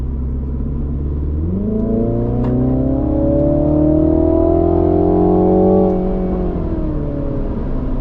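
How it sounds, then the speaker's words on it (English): A turbocharged Mini Cooper with an aftermarket intake hardpipe revs up under acceleration, its pitch climbing smoothly over several seconds, loud and close, then dropping back as the throttle lifts. "I'll go ahead and do a quick pull for you so you can hear exactly what it sounds like."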